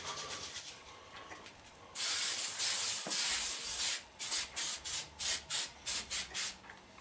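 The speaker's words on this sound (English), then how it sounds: "You gotta grease the pan." A baking pan is greased for BBQ biscuits: a steady, close spray-like hiss runs for about two seconds, then a quick series of about eight rhythmic rubbing strokes follows, with no talking.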